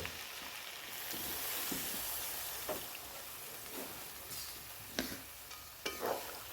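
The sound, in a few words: water poured into pan of spiced okra and potatoes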